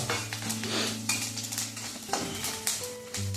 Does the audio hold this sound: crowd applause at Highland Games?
no